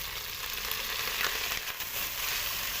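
Capsicum and onion fry lightly in a pan, producing a constant, soft, airy sizzle. Brief stirring scrapes rise now and then, and no one speaks.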